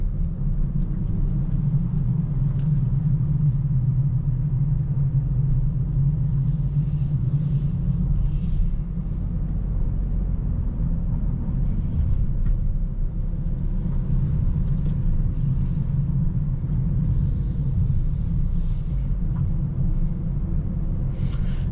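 A Fiat Strada 1.3 pickup with a 107-horsepower engine and a seven-speed CVT automatic, driven along; a steady, low engine rumble fills the cabin throughout with no breaks.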